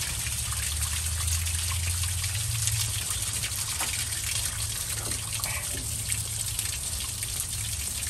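Water rushing steadily from the cooling system of an abandoned 1982 Chevrolet C10 during a flush, a continuous broadband gush with a low rumble underneath, close and constant throughout with no talking.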